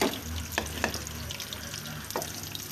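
Chopped onions fry in hot ghee for chicken, giving a steady close sizzle with a few sharp stirring scrapes and clinks against the pan throughout.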